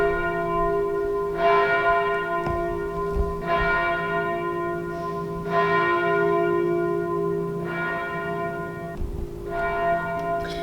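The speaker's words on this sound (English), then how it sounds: "we woke up to literally 5 minutes of bells" Church bells peal in France, several bells ringing in overlapping strokes against a steady sustained hum, loud and continuous across the clip with no talking.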